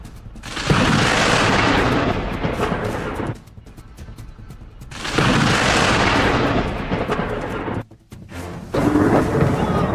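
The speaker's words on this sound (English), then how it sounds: "lightning strikes directly onto the scaffolding" Thunder from lightning striking construction site scaffolding rolls as heavy, loud rumbling crashes in long waves, easing briefly between bursts, with no speech over it.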